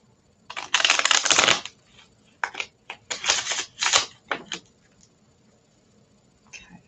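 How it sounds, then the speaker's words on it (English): A deck of cards is shuffled up close during a mini card-reading session: several quick riffling bursts with short gaps between them, fairly loud and with no voice over them. "Okay, that's all shuffled up."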